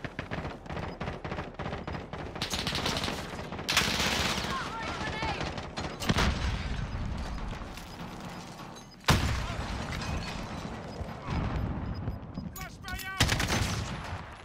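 Automated sentry gun in Call of Duty Modern Warfare multiplayer fires sustained rapid bursts, with several sharp loud onsets among continuous chattering gunfire close by; a game announcer voice is faintly heard underneath.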